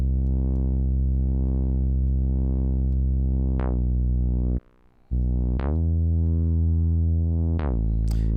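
Loud synth bass notes, a wobbling held tone that drops into deeper sliding notes, with a short silent gap midway.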